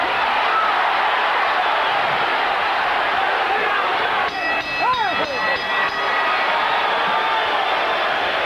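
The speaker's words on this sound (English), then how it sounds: "The crowd, many from Mexico, should erupt with applause at the bell." A large boxing-arena crowd, many of them Mexican fans, roars and applauds steadily at the bell of a Chavez bout. Bright whistles and whoops rise briefly above the constant wall of noise.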